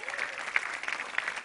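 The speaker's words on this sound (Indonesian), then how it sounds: "ini tepuk tangan yang meriah untuk Junifer Girsang." Brief, fairly faint applause from an audience at a stand-up comedy open mic, a short burst of scattered clapping.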